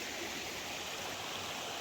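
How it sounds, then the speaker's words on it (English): A river flowing on a rainy day, a steady, soft broadband rush of water that stays even throughout with no voices. "Gotta find a way to cross this river."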